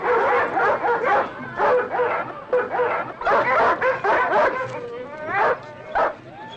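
Sled dogs bark, yip and whimper in a lively, uneven series of close, loud calls, with short pauses between bursts and a whining note near the end.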